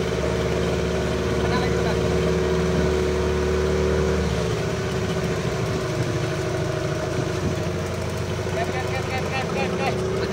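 A speedboat engine runs on a river, a steady droning motor that stays fairly close and shifts in tone partway through, with people talking over it.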